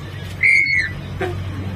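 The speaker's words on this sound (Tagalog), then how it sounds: "Lagyan natin sipol yung preno mo." A whistle fitted to a brake sounds once, short and shrill, followed by a fainter chirp amid low background rumble and distant voices.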